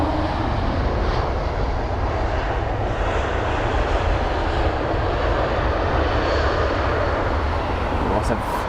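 An Emirates A380 airliner landing at London Heathrow at sunset, a steady broad engine roar and rushing air that holds constant throughout, loud and unbroken with no voices.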